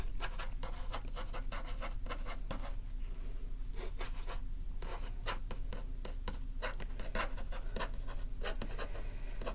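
Close, scratchy pen strokes on paper go on steadily with quick bursts and short pauses, soft and intimate over faint low background hum, with no talking.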